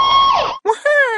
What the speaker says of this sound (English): A toy fire truck sounds like this.